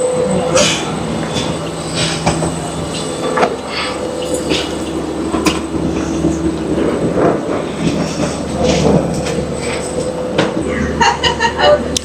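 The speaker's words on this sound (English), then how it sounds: "So we are on the bus." Steady engine rumble and rattling inside a moving airport shuttle bus, with occasional clanks and faint voices in the background.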